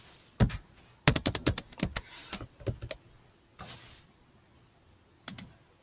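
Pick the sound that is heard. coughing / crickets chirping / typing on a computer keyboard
typing on a computer keyboard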